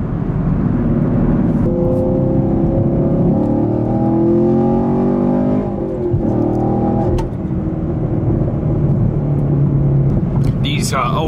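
A Chevrolet Camaro SS 1LE muscle car accelerates hard with rising engine tones, downshifting through several gear changes, loud and close from inside, while people talk over the engine.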